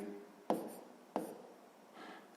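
A pen writes by hand on paper during a sixth-grade maths exercise, two quick distinct taps followed by soft scratchy strokes, faint and close.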